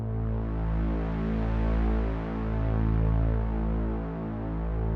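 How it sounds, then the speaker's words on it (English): Deep sustained synth pad bass from a melodic techno buildup, a thick droning low tone that swells and pulses slowly, steady and loud on its own. "Then there is this pad bass kind of sound"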